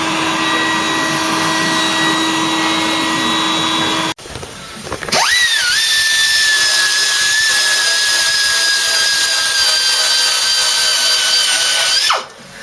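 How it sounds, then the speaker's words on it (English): A power drill boring mounting holes for a door mirror on a Ford Cortina MK3 GXL under restoration, a loud steady whine after an earlier machine hum, spinning up, holding and winding down, close by. "There's 2 holes to drill for that, so we need to get that right."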